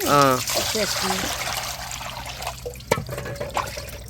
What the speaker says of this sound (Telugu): ఇంకా చేప ముక్కలను అయితే కడిగేసుకుందాం అండి శుభ్రంగా